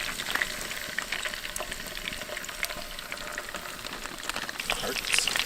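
Duck meat sizzles in a frying pan of rendered bear fat, a busy crackling spatter that swells slightly toward the end with faint voices in the background.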